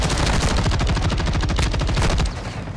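Rapid automatic gunfire in Call of Duty Modern Warfare II rattles loud and close in a dense, steady burst of shots lasting over two seconds, then falls away into a quieter tail, with no voices.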